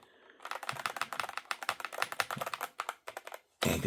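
Fast typing on a Redragon Trundle RGB mechanical keyboard with sound-absorbing foam, a quick run of close, crisp key clicks with a few brief pauses and a louder clatter at the end.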